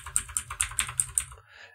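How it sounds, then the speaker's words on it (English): Computer keyboard arrow keys pressed while moving between spreadsheet cells, six or seven crisp evenly spaced clicks in a quick steady rhythm, close and clear, fading out at the end. "I'm using my up, down, left, and right arrows to go over left and right,"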